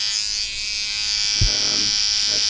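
Rose Gold Super Trimmer Cut 3000 electric hair trimmer buzzing steadily and close during a drop fade haircut, a continuous high whine with a brief low knock partway through.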